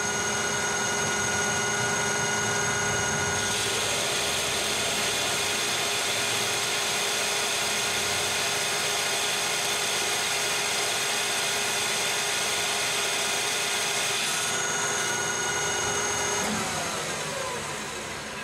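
A lathe turns 4140 chromoly steel at 1120 RPM with a heavy cut, giving a loud, continuous mechanical whir with a shrill, rough cutting tone that rises partway through and then eases near the end. No one talks.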